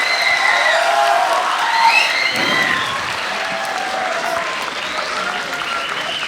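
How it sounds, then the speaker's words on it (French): Warm applause from an audience for a group of youth project presenters at a community event, steady dense clapping with some faint voices underneath, fairly loud and sustained throughout. "S'il vous plaît, applaudissez-les chaleureusement."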